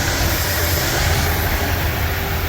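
A 1981 Ford F150 engine idles after sitting unused for more than 16 years, a steady broadband hum and hiss that stays even and unbroken throughout with no talk.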